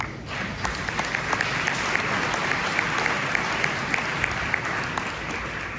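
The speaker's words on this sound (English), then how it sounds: "A round of applause for our panelists, please." An audience at a conference panel discussion on digital dependence and AI claps warmly for the panelists, a sustained, fairly loud round of applause from a sizable room with rhythmic clap peaks.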